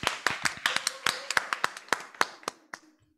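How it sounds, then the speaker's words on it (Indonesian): Applause for the Nusa Tenggara Barat team at a children's religious quiz competition: a small group clapping in sharp, close, fairly regular beats that slow and thin out toward the end. "Tepuk tangan dulu untuk Nusa Tenggara Barat"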